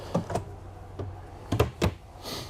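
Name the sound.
drawer pulled out in RV kitchen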